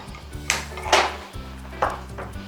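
Metal cookware knocks and clatters on a stovetop as a pressure cooker is set down for a Telugu mixed-vegetable stew, with several sharp clanks over a low steady hum.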